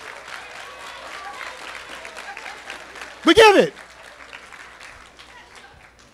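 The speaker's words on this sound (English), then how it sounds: "You were clapping for yourselves." At a college leadership symposium, an audience claps in a soft, continuous patter beneath a speaker's voice, with a sudden loud shout or cheer bursting out briefly midway.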